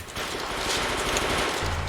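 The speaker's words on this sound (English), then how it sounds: "I hear gunshots." Rapid gunfire in the video game Peripeteia, a dense, steady rattle of shots heard alone over a short stretch, moderately loud.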